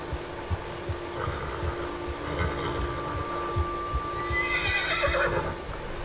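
A horse in Red Dead Redemption 2 on PC gives a clear, drawn-out whinny over a low rumbling game background, with soft hoof thuds around it.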